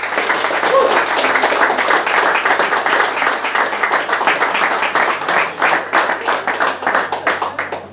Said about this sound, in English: I want to give a big round of applause for the local businesses